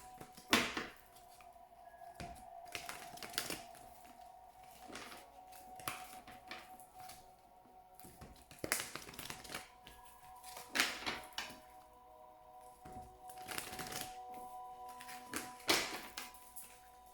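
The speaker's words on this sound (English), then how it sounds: "while I shuffle the cards" Quiet, repeated papery riffles and soft taps come in short bursts as a deck of oracle cards is shuffled nearby.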